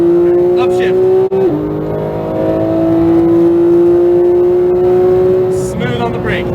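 A Porsche 911 GT3 991.2 at full power on a racetrack in Las Vegas, its engine holding a loud, steady high-pitched howl that dips briefly at a shift and then climbs again, close up, with a voice talking over it.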